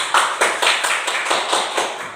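A group claps together in a steady rhythm, loud and close, for a couple of seconds.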